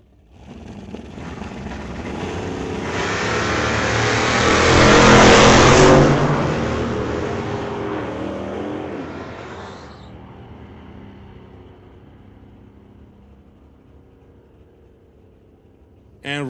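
At a drag race, Rob Getz's street legal pickup and a Camaro launch and roar past, engines swelling to a loud peak mid-run before fading into a distant drone, with an announcer talking over the noise.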